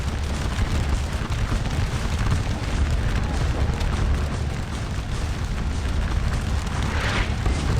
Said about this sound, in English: We got some artillery landing over there